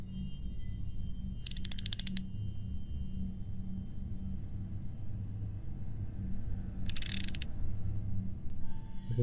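Two short metallic scraping bursts from an enemy's knife in the VR horror game Home Sweet Home, spaced several seconds apart over a low droning ambient rumble, moderately loud and with no talking.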